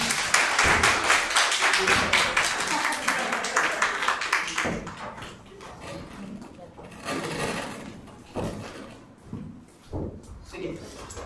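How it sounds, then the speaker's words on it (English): Audience applause at a presentation session, dense rapid clapping for about five seconds that thins to scattered claps with people talking over it. "Can we give them a round of applause, please?"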